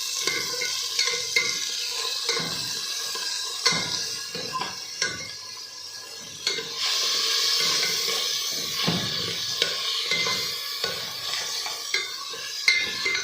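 Chicken pieces sizzling in hot oil in a pan for a chicken vegetable hot and sour soup, with a steady broadband fry hiss and frequent scraping clinks of a spatula stirring against the metal, close and continuous throughout.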